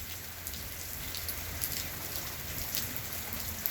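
Steady rain patters on surfaces during a small thunderstorm, a dense, continuous hiss with scattered sharper drops, fairly quiet and even throughout.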